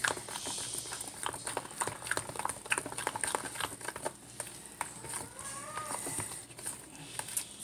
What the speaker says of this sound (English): Use my spoon now. I can mix it up better.